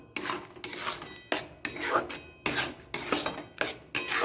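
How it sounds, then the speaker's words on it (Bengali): A spoon scrapes and stirs a paste of motor dal (lentils) in a pan, making rhythmic gritty rasping strokes in six or seven close bursts, with no talk. "এবার ভালো করে মিশিয়ে নেব"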